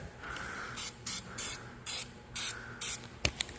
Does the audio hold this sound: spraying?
yes